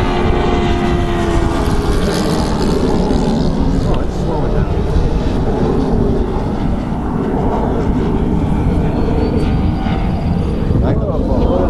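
An E-flite F-16 RC jet running on a 3-cell battery flies past outdoors, a continuous electric fan whine rising and falling as it circles, with someone talking over it.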